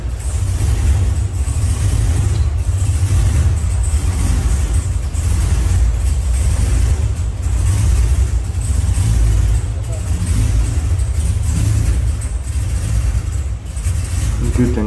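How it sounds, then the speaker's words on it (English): Chevy donk car engine revving steadily with a deep, continuous low rumble, loud and close throughout, with no clear pauses between revs. "Good engine sound."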